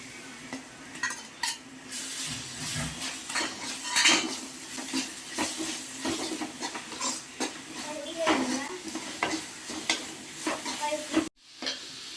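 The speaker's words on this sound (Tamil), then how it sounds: "இப்போ வந்து நம்ம இஞ்சி பூண்டு போடுறோம்" Ginger and garlic stirred into sautéed onions in a pan for chicken gravy: a continuous sizzle under frequent metal spoon clinks and scrapes against the pan.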